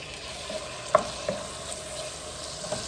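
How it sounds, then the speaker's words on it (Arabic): Mushrooms frying in a pan and being stirred, a low, even sizzle with a few sharp clinks and scrapes of a utensil against the pan, moderately close and without speech. "هسه راح نضيف المشروم"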